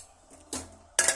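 A metal lid is set onto a cooking pot of rice on a stove, giving two short, close clanks about half a second apart, with quiet kitchen background between them.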